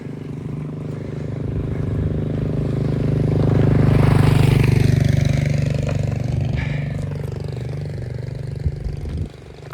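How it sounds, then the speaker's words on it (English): A motorbike passes outdoors, its engine drone swelling as it approaches, peaking near the middle, then fading steadily into the distance with no talk over it. "I'll let this motorbike pass."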